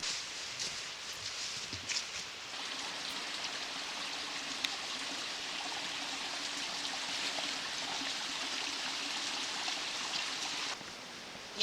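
A steady rushing of a mountain valley stream flowing over rocks on Deogyusan in Muju, South Korea, in autumn, continuous and moderately loud, with no talking.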